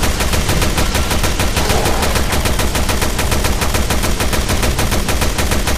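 Rapid, sustained machine gun fire from the video game Resident Evil Revelations 2, loud and evenly spaced shots hammering without pause throughout.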